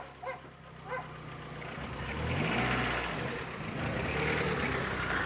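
A car engine rumbles and revs as a vehicle pulls into a rural yard, growing louder and steady, with a couple of short dog barks near the start.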